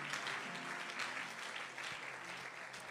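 A congregation at a Sunday thanksgiving church service applauding, a steady wash of many hands clapping at moderate distance, continuous and even across the whole stretch.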